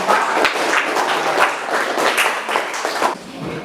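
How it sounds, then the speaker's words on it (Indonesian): A classroom group breaks into dense, continuous applause for a student group after a Catholic religious education presentation, many hands clapping loudly and close with no voices over it. "Tepuk tangan untuk kelompok 4."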